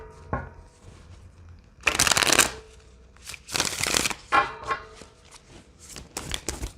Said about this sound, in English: these cards shuffle so beautifully in my hands